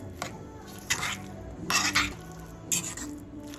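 A spoon working through avocado egg sandwich filling seasoned with oregano in a bowl, a few soft scraping, clinking strokes spaced irregularly and heard up close.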